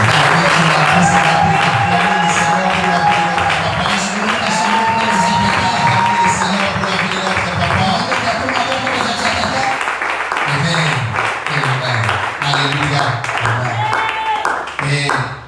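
A church congregation applauds and cheers at length, with clapping and shouts of praise filling the room while voices call out over the crowd.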